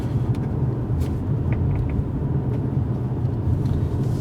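A 2020 Mercedes CLA45 S AMG with a 421-horsepower engine hums from inside the cabin, a steady low engine drone and exhaust note with faint ticks and knocks above it.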